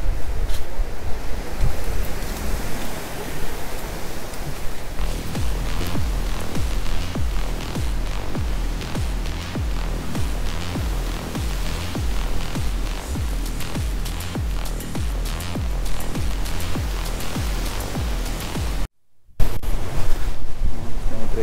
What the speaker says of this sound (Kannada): wind blast heavy ಹೊಡಿತಿದೆ